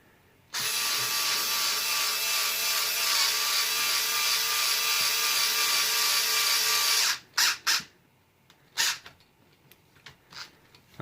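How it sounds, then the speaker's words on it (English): A power driver whirs loudly and continuously for about six seconds, tightening captive lock nuts on Hot Racing aluminum shock mounts fitted to a Losi LMT RC truck. A few sharp knocks and clicks follow once it stops. "these lock nuts that go on the back are captivated, so they should, in theory, tighten up without having to get a spanner or socket on them"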